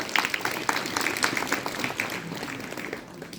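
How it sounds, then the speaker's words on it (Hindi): Students at a school motivational talk clap at the speaker's request, sparse and uneven hand claps at first, thickening into a light ragged applause, moderately distant and fairly quiet. "इस बच्चे के लिए प्लीज जोरदार तालियां बजाइए।"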